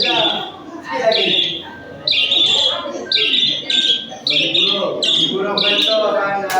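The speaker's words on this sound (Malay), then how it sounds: "Burung betul anda." Bird chirping played as the answer in a sound guessing game: repeated bright tweeting calls in short bursts, with people talking under and between them.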